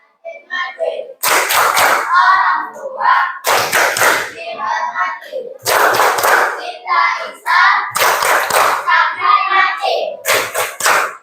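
Children chant together while clapping in a steady rhythmic pattern, loud bursts of hand claps alternating with sung phrases in a classroom clap chant.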